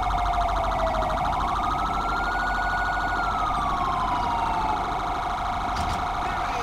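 A wailing emergency siren from an ambulance or fire truck in Grand Theft Auto V, rising and falling steadily over continuous loud traffic and engine noise, with a brief extra burst near the end.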